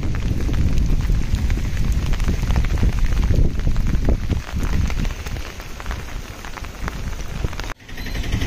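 Heavy rain pours down in Chejarla, a dense, loud, continuous roar of water hitting surfaces close by, steady throughout with a brief dip near the end.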